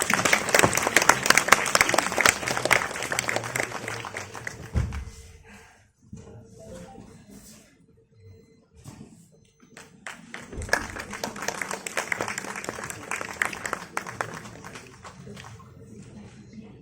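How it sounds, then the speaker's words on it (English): A crowd at a symposium and exhibition inauguration applauds with dense clapping that fades into a lull, then builds again into a second round of steady applause. "can we have a round of applause, please?"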